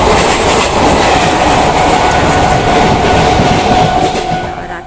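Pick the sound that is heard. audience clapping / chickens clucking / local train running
local train running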